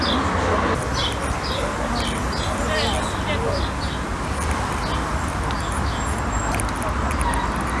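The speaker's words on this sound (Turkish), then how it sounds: "Yapay kuş sesleri falan vermişler." Artificial bird chirps and calls played in a botanical tunnel repeat over a steady wash of background noise, with a voice talking through much of it.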